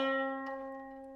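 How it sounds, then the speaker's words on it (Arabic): A qanun string tuned to C half-sharp with the first lever raised, plucked once and left ringing with a bright, slowly fading tone, close and solo, with a faint click partway through. "لما بنرفع اول عربة اللي هي حاجة اسمها نص دييز بيبقى صوتها كده"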